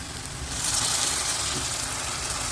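Spice powders of turmeric, cumin, garam masala and chilli with coriander and ginger garlic paste sautéing in a pan for a mushroom gravy, giving a steady, continuous hiss and sizzle that swells slightly after the start.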